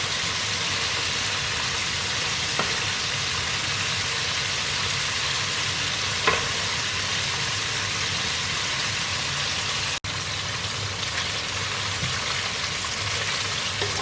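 Chicken wings deep-frying in hot oil, a loud, constant, close-up sizzle and crackle that holds steady for the whole stretch, with a couple of faint clicks and no speech.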